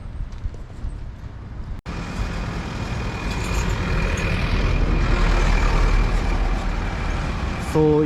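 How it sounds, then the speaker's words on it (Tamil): A small bus passes along a road in a Nepal valley village, its engine rumble swelling from moderate to loud and close and holding steady, with no talk. "ஸோ இப்போ ஒரு சின்ன பஸ் போகுதில்ல"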